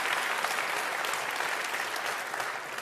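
An audience at an award event for an environmental legal initiative breaks into steady, dense applause that continues evenly and fades slightly at the end.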